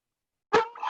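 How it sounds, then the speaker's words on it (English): A single short dog bark erupts after a silent half second, a sharp yelp with a brief trailing second note, close to the microphone on a call. "Apologies for my dog."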